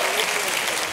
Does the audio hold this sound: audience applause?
yes